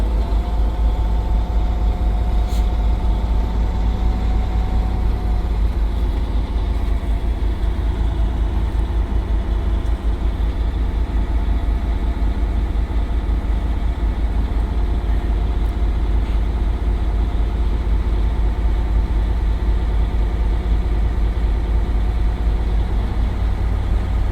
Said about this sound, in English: start the engine, put the RPM at 1200